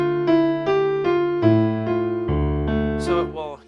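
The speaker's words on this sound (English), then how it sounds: "I'm just going to do a piano sound so it's like this." A keyboard's piano sound plays a slow series of sustained notes and chords from the theme from The Hulk, each ringing out before the next, ending with a brief brighter flourish.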